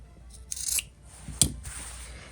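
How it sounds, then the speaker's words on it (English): Scissors trim the fabric corners of a sewn wallet, giving two distinct close snipping cuts about a second apart against a quiet background. "now I'm gonna go and trim the corner, and then the thickness around"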